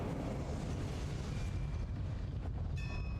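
The Incendio fire spell in Hogwarts Legacy gives a steady, roaring whoosh of flame with a rumbling low end, ending in a brief bright chime-like shimmer.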